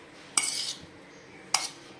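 A spoon stirs salted sabudana batter in a bowl, giving two short, bright scraping clinks about a second apart against a quiet background.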